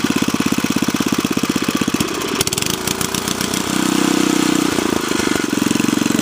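A Montgomery Ward rototiller engine chugs at a steady idle, then is revved up with rising, uneven throttle bursts before settling again, loud and close with no talk.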